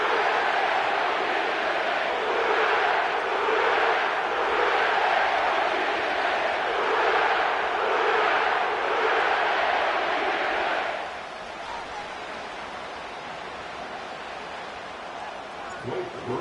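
A stadium crowd in the Caesars Superdome in New Orleans cheers steadily in an EA Sports football game before a Saints versus Broncos matchup, a loud rolling roar that fades to a lower murmur near the end.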